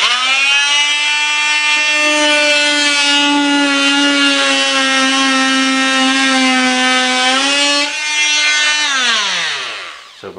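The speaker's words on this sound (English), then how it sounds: "you'll see my saw blade go all the way through as I cut" A power saw blade cutting through a wooden subfloor, a loud sustained whining tone held steady for about eight seconds, then dipping in pitch and winding down.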